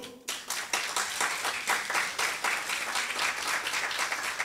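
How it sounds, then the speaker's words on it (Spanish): Audience applause at a university forum on higher education: a sudden burst of many hands clapping that holds steady and fairly even for several seconds, heard from within the room with no voices on top. "para quien pido un fuerte aplauso"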